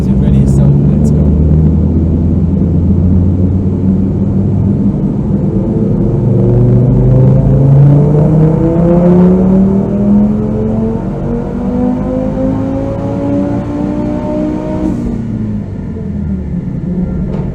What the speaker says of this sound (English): see what does the car really perform on the dyno. Fourth gear, car warm, everything ready, so let's go.